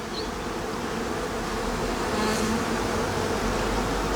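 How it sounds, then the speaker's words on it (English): A large honey bee swarm clustered several layers deep on a fresh foundation frame hums in a dense, continuous buzz close by, steady and unbroken with no voices. "There's 3 layers of bees on there."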